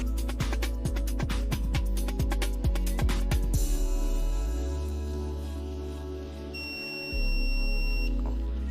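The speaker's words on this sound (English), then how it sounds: "let's check whether the multimeter is on or not using the" Continuity buzzer on a multimeter being tested, with a rapid train of short clicks and beeps at first followed by a steady tonal buzz and a high whine, fairly quiet and up close.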